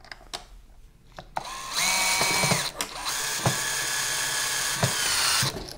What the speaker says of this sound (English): So you will need to get a screwdriver to complete the installation.